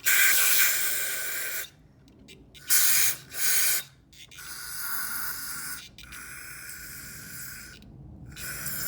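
Several bursts of aerosol spray hiss loudly up close, cleaning the corroded brakes of a 1978 Yamaha XS1100 motorcycle; a long blast followed by short squirts and longer sprays separated by brief pauses.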